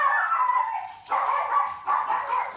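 A dog left alone by its owner howls and whines in three drawn-out, mournful cries, close and loud, each one rising then tapering off, with no people talking.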